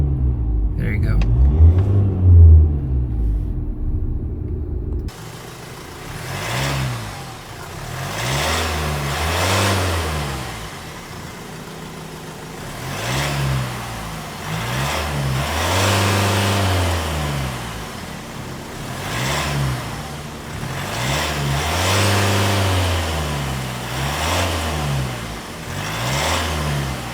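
A 2024 Ford Ranger Wildtrak 4x4 pickup's engine is revved repeatedly, each rise and fall of the rumbling note swelling and easing in a steady rhythm. It sounds close, with a voice speaking over the engine.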